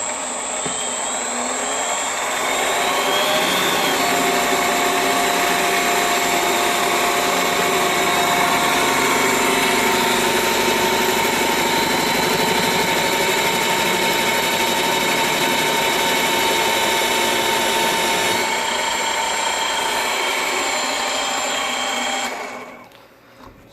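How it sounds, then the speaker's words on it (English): A Sieg mini lathe cuts metal under power feed while a carriage hand wheel is machined, giving a loud, steady motor whine with a constant tonal hum and cutting noise over about twenty seconds before it stops, close and without talk. "let's see if we can use the power drive on this one here"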